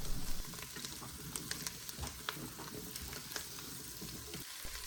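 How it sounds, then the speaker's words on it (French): Vegetables for butternut squash soup sweat in a pot, giving a steady soft sizzle with light scraping stirs, close and continuous with no talk. "On mélange un peu et on laisse suer nos légumes 2-3 minutes."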